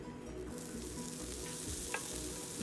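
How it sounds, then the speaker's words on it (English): Oil sizzles steadily on a hot Blackstone flat-top griddle, a continuous close frying hiss with a brief scrape partway through and no talking. "We're gonna go ahead and add some oil to the Blackstone."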